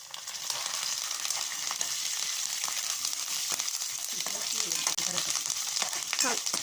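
Curry leaves and ginger frying in oil for tamarind rice give a steady close sizzle, with a few sharper crackles and spoon scrapes breaking through the continuous hiss.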